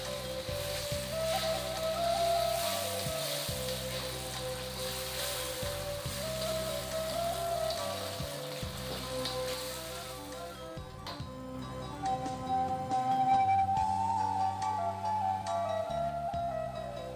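Ground chili paste for dendeng sautéing in a pan, a steady close sizzle and crackle running throughout with a constant low hum beneath, briefly dipping then returning.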